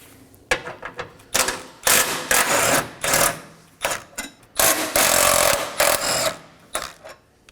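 A power tool removes two 13mm bolts from the radiator support bars of a 2011-or-later Dodge Durango with a 5.7L V8. It comes in loud, close, repeated whirring bursts broken by short pauses, with no speech.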